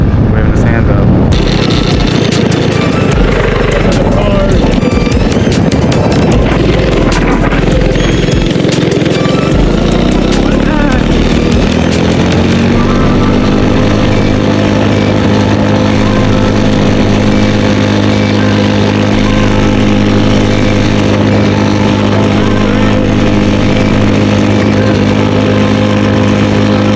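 Drift kart engine revving loudly during a drag test, rough and busy at first, then settling into a steady sustained drone with strong harmonics as it runs on.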